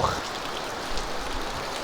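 Heavy rain falls steadily as a typhoon approaches, a dense, even hiss of water striking surfaces nearby with no break, and faint talk briefly audible beneath it.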